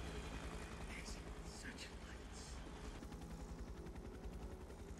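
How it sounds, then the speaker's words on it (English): A helicopter from the film Interview with the Vampire churns with a steady, dense low rotor rumble, heavily mixed with other movie sound and voices throughout. "where did the chopper come from?"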